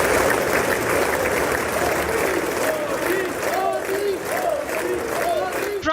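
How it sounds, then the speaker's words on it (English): Lawmakers applaud and cheer in the chamber of the US Congress as India's Prime Minister arrives, a dense, loud, sustained wash of clapping and voices with no break. "The Prime Minister walked into loud cheer and applause as lawmakers welcomed him."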